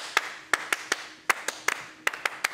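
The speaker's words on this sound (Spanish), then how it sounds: "¡Palmas, compañeros!" Sparse, uneven hand claps from a small studio audience on a Peruvian TV comedy show, about a dozen sharp claps scattered irregularly over a couple of seconds, fairly faint with no talk.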